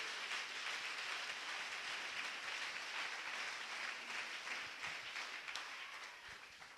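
A church congregation applauding, steady dense clapping from many hands that fills the space evenly and only begins to fade near the end, with no voices over it.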